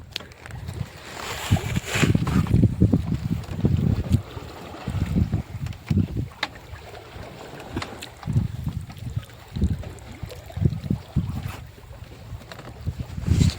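Distant fishing boat out at sea, a low muffled engine drone pulsing under gusty wind noise on the microphone, with no talk.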